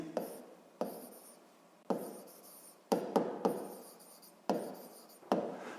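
Handwriting in quick bursts of pen strokes, each scratchy flurry starting sharply and fading before a short pause, repeated about seven times, close and quiet with no voices.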